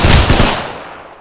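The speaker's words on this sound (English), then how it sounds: "I'm taking shots. Opening fire." Loud, close burst of rapid automatic gunfire in the Apex Legends video game, a quick string of shots with a decaying tail and no talk.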